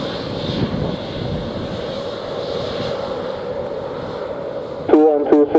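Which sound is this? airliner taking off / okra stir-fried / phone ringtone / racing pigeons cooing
airliner taking off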